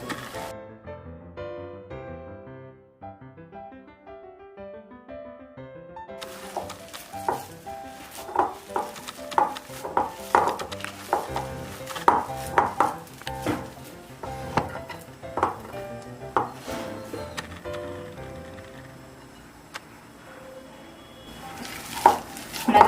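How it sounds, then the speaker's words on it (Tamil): Spinach vada batter is mixed by hand in a bowl, producing repeated close, wet stirring and squishing sounds with occasional clinks, after a quieter musical opening. "இப்போ இதெல்லாம் நம்ம நல்லா மிக்ஸ் பண்ணிக்கலாம்."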